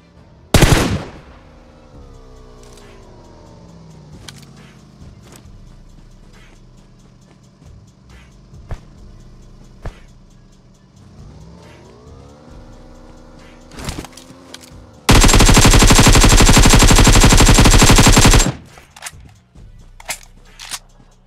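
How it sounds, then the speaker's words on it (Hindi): AKM rifle fire in a shooting video game plays as scattered single shots and short sharp bursts, then a long continuous loud volley near the end. Engine-like mechanical hums run in between, and no voices are heard. "मैं उनके पास उनके ऊपर AKM की गोली बरसाता हूँ"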